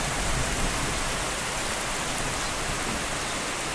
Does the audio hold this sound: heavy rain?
yes